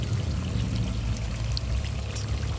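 Water rushes steadily through a gold prospecting cleanup sluice held down with corrugated metal on a classifier/extractor setup, a constant close pouring flow with no voices.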